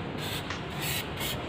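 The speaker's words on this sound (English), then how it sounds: "Let me spray some rat anti-rat treatment" An aerosol can of anti-rat treatment sprays into a car engine bay, a close, steady hiss with short pulses and brief pauses between bursts.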